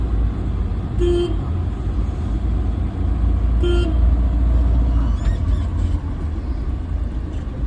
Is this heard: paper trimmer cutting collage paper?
no